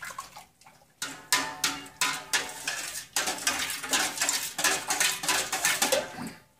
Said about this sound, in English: Just stir very, very well.